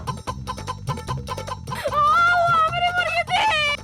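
A hen clucks in short repeated bursts over a looping rhythmic backing, followed by a longer drawn-out squawk.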